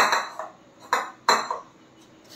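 Pots and utensils clatter in a home kitchen while soybean curry is cooked, giving a few sharp metallic knocks and scrapes spaced unevenly, fairly close by and with no talking.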